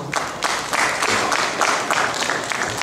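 An academic audience at a law thesis defense applauds a jury professor, with many hands clapping in a steady, moderately loud, pulsing wash and no speech over it.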